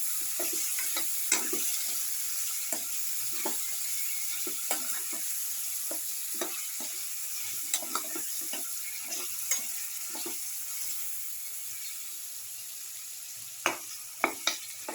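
Sautéing for a garlic beetroot chicken casserole: a steady frying sizzle runs throughout, broken by irregular scrapes and clacks of stirring in the pan, close and fairly loud, with no voices.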